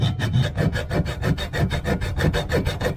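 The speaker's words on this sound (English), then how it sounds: "I'm going to have to cut that bolt with a hacksaw" Hacksaw cuts through a bolt on a seized Suzuki DR200 dirt bike engine in steady, rapid back-and-forth rasping strokes, close and loud, with no talking.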